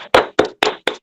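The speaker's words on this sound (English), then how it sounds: "For you, a huge round of applause and welcome to you once again." Four sharp, evenly spaced hand claps, close and loud with short gaps between, at a Rotary club meeting welcoming a District Governor.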